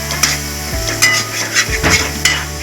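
A spoon stirs and scrapes a thick mixture in a pan for vada fish curry, giving close, repeated metallic scrapes and clinks over a low sizzle and a steady hum.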